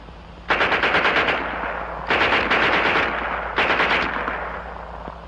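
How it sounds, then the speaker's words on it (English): Three bursts of a German Schmeisser submachine gun ring out, each a string of about eight distinct, evenly spaced shots at a moderate cyclic rate, loud and close with brief pauses between bursts. "And here's their Schmeisser."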